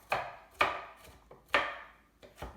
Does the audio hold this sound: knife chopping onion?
yes